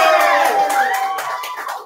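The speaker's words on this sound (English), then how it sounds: "round of applause, please" Audience at the Tripwire Awards 2021 ceremony applauds and cheers as a Best Digital Comics winner is announced, a loud, steady wash of clapping and crowd noise that eases slightly toward the end.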